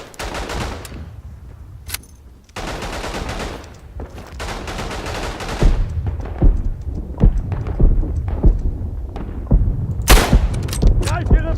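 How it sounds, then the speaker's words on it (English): Gunfire in the World War I shooter game Verdun: scattered rifle shots cracking near and far, with sharp close reports toward the end. "Oh, he's shooting at me."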